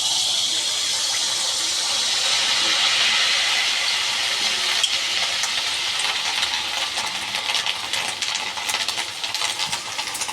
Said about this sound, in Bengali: এবার আমি পিঠে দিয়ে দিচ্ছি